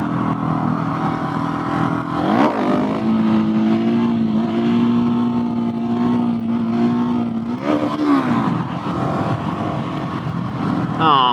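A Husqvarna 701SM single-cylinder motorcycle engine drones under load during a wheelie, with pitch sweeping up around two seconds and again near eight seconds, steady and close, with wind noise.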